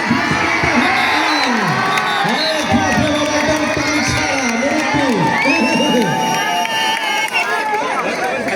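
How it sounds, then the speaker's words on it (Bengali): Spectators at an outdoor kabaddi tournament for fishermen in Lalmonirhat cheer and shout continuously, a loud lively crowd with whoops and chatter, while a commentator talks over the noise on a loudspeaker. "দর্শকের আওয়াজ কিন্তু দিতে হবে।"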